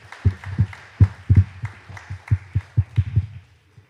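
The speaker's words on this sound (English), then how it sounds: "May we give the panelists a clap?" A small conference audience gives the panelists a short burst of clapping, scattered hand claps close by that thin out within a few seconds.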